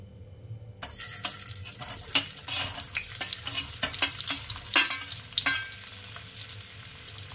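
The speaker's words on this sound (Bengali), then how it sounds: "তেল গরম করা আছে, এবারে আমি আলুগুলোকে এর মধ্যে দিয়ে দেব।" Potatoes dropped into hot oil in a pan on a gas stove fry with a steady, close sizzle, broken by sharp crackles and spits as pieces hit the oil, with no talking.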